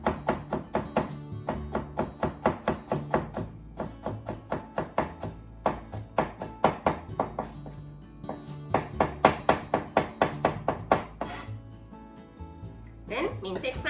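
A knife chops ingredients into thin strips for meatballs and glass noodle soup, producing rapid, steady thuds on a cutting board in quick bursts with brief pauses, close and clear.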